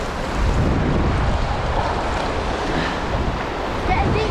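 Choppy sea waves rolling onto a Moroccan beach as the tide comes in, a loud steady wash of surf mixed with buffeting wind noise on the microphone, with no talking.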